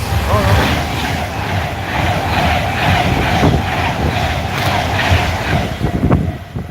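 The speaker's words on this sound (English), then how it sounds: "So we have got a train coming through. Does not stop here." A freight train rolls through a railway station without stopping, a loud, continuous rumble and clatter of wagons passing close by, with crowd noise in the background.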